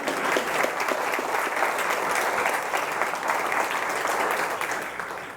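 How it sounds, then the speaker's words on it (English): Sustained audience applause fills a State of the County address hall, a dense, steady wash of many hands clapping at even loudness from start to finish. "You can clap for that."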